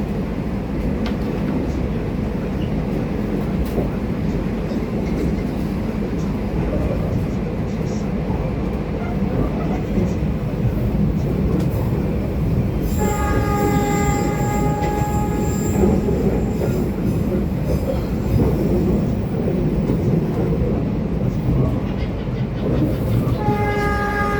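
Riding aboard the Parahyangan train between Cimahi and Bandung stations, a steady loud rumble and clatter of wheels on rails fills the cabin, with a high squealing tone joining midway; voices murmur faintly underneath.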